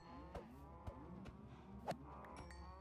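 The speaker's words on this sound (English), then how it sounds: "So many cows." Cows moo in Minecraft, several short low bovine calls in quick succession from a herd, fairly faint, with no talking.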